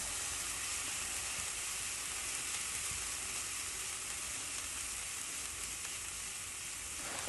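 Steak sizzles over a wood fire, a steady, dense frying hiss that holds evenly throughout at a moderate level with no voices.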